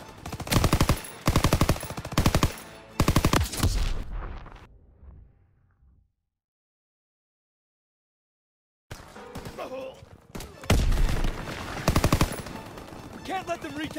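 Machine gun fire in the Call of Duty: WWII D-Day campaign, with loud dense bursts in the opening seconds, a lull of near silence, then renewed battle noise and gunfire with shouted voices over it.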